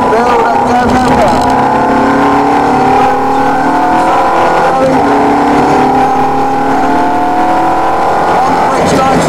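A Ferrari F430 lapping the Trac Mon race track, its engine loud and close with rising and falling revs through gear changes, while an instructor talks over it.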